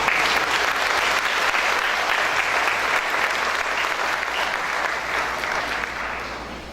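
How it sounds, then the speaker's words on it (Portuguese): A church congregation at a ministry training session claps for a pastor, a steady, dense round of applause that holds for several seconds and fades slightly at the end. "Vamos dar uma salva de palmas para o pastor Benedito."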